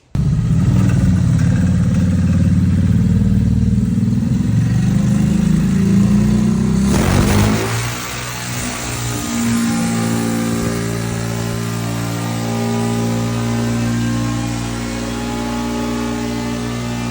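A CFMOTO engine fitted with an aftermarket muffler runs on a dyno, droning loud and steady, then shifting pitch abruptly partway through and carrying on as a sustained, slightly lower engine roar.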